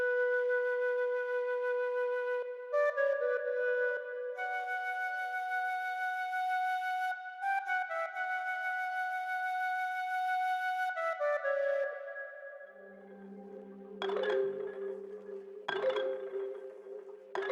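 A dark, breathy flute sample from FL Studio plays a slow sustained melody with stereo panning effects, held notes shifting in pitch before a lower, sparser passage near the end.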